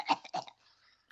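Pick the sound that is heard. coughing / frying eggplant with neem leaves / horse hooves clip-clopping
coughing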